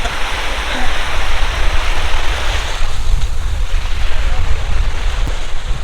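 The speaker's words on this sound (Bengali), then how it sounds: "দেখেন দারুণভাবে ঢেউ আসতেছে।" Sea waves at Guliakhali beach in Sitakunda, Chittagong roar in a loud, continuous wash of surf with rolling surges, close and steady throughout, with wind buffeting.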